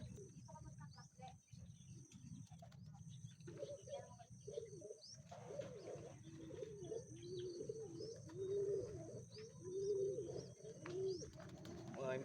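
Racing pigeons coo and chirp as they arrive at a loft after a training flight, the soft repeated calls rising over steady low background noise, with a voice murmuring now and then.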